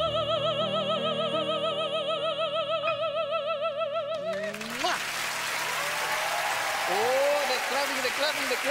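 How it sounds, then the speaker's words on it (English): Television studio audience breaking into clapping after a sung performance ends, the music fading out and a broad ripple of applause rising and continuing with voices mixed in. "clapping, they're clapping"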